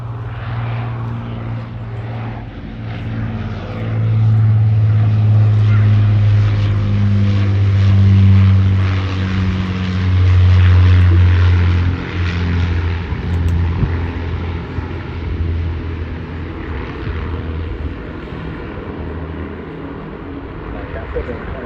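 An Avro Lancaster bomber flies past at an airshow, its propeller engines giving a steady, loud drone that swells in the middle and then slowly fades, with a voice talking over it.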